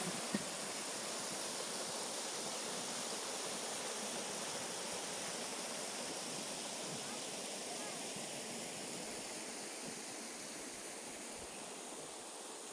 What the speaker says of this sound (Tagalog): Ayan yung falls.